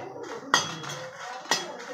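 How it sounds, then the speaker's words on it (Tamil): Ten dried red chillies are dry-roasted in a pan, with two sharp metallic clinks of a utensil against the pan over a faint background hiss. "ஸோ அதே நல்லா போட்டு வறுத்து எடுத்துக்கலாம்."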